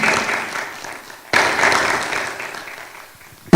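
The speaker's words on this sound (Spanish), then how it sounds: "Otro aplauso" Applause from a church congregation breaks out in two waves of steady clapping that swell and then slowly fade, heard from inside the room.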